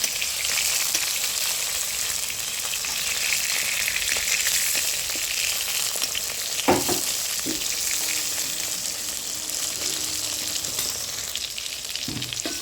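Prawn-and-batter fritters (bora) fry in hot oil in a pan with a steady, loud sizzle throughout, broken by a few clinks of a spatula turning them.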